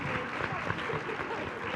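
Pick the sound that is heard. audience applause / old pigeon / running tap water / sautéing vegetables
audience applause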